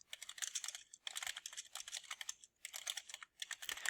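Rapid typing on a computer keyboard, steady bursts of soft clicks in several runs separated by brief pauses, close and fairly quiet with no talking.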